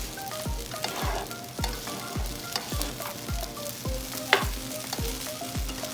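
Shrimp fried rice sizzling steadily in a pan while a spatula scrapes and stirs it in a regular rhythm of sharp strokes, close up with no talking.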